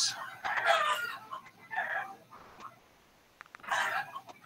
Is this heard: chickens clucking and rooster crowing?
yes